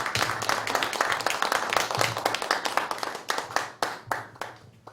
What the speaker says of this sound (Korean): 장군을 박수로 모시겠습니다.